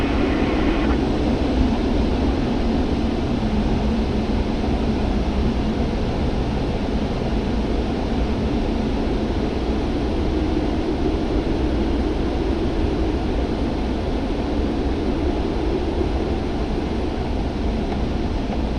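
Steady, loud drone of a tow plane pulling a glider aloft, continuous broadband engine and wind noise heard from inside the aircraft with no pauses.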